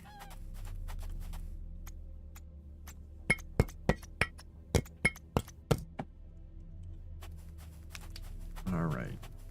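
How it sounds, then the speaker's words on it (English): A carbon-making machine in the video game Back to Blossom gives off a series of sharp, evenly spaced clicks, about eight in a row, over a low ambient hum, with a brief chicken-like call near the end. "Oh, that's what that clicking noise is. It's the thing making carbon."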